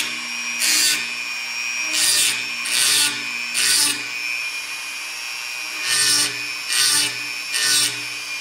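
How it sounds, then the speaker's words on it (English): A Dremel fitted with a small grinding stone, running at about half speed, gives a constant high whine. Seven short, rasping grinding bursts land in an uneven rhythm, close and fairly loud, with no talking. "I take a Dremel with a small grinding stone, turn it about halfway"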